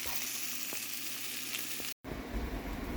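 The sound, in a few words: hash browns frying in a pan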